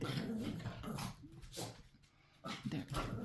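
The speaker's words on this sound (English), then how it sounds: "You know, dogs playing." Dogs playing indoors near breakfast time, close growls, whimpers and scuffling yips in uneven bursts with a brief lull in the middle.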